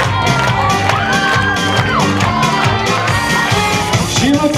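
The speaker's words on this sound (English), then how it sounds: "Cheer coming through right now." Crowd cheering at a bar mitzvah party, loud shouts and whoops from many guests, including children, over a steady party din, continuous throughout.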